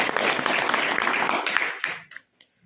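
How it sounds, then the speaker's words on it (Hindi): An audience claps at a plan presentation, dense applause that holds steady and then quickly thins out to a few last scattered claps. "एक बार जोरदार ताली बजाएं अपने आप।"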